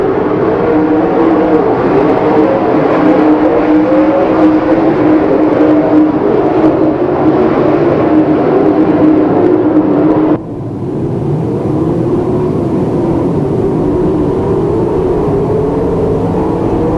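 Open-wheel race cars lap an oval track, their engines droning loudly and continuously as a pack, the roar shifting tone partway through as cars pass and the field moves around the turns.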